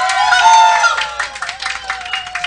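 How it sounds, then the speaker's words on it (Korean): Audience applause at a live singing performance, a short burst of clapping and cheering that rises under a sustained shouted voice, then continues as scattered claps alongside talking. "자, 박수를 한번 쳐보는데 얼마나 나오나 봅시다."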